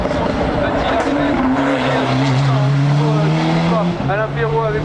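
A race car attacks the hill climb at Bagnols Sabrans, its engine screaming loud and close through rising gear pulls and a shift, while a commentator talks over it.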